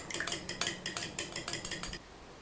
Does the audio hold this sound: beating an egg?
yes